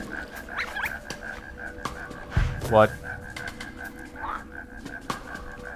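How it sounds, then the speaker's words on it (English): Frog in the video game Shelter croaks a few times, faint and scattered under game ambience, with one louder rising call in the middle and a brief spoken word. "That frog is freaking out."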